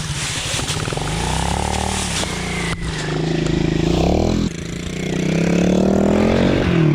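A Kawasaki pit bike engine revs repeatedly on an enduro ride, rising and falling in pitch through several throttle bursts, loud and close, with shouted voices over it.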